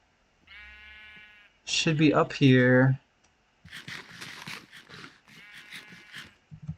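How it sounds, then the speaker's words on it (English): Sheep in the video game Minecraft bleat in a long harmonic cry near the start, then again faintly in short calls among clicking sounds, with a voice speaking loudly in between. "Out of the way, sheep."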